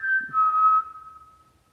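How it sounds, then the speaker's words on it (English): A person whistles one clear, sustained note that bends slightly and then fades out, close and loud with no talking. "Can you whistle, please?"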